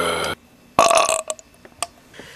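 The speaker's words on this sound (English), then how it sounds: "14 minutes since I've drank a whole bottle of Coke without burping, and now it's just coming out" A loud, close burp follows drinking a whole bottle of Coca-Cola, with a short belch, a longer rumbling one, and a few small trailing gulps and clicks.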